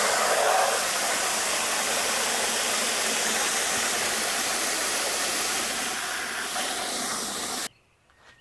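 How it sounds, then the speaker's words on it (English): Water rushes steadily through a yard drainage pipe during a flow test, a loud, even hiss lasting about seven and a half seconds before cutting off abruptly to near silence. "Stealth Flow doing a good job moving the water away from the house"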